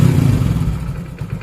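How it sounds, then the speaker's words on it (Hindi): An engine is revved with a sudden stab of the accelerator and then released, producing a loud, close, low roar that quickly falls back toward idle within a second and a half. "आपको एकदम से एक्सीलेटर देके छोड़ देना है।"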